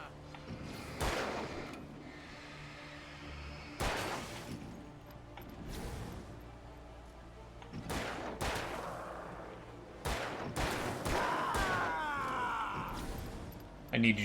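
Gunfire in the Alan Wake video game as enemies are shot, a few loud sharp bursts spaced several seconds apart over steady game ambience, with players talking throughout.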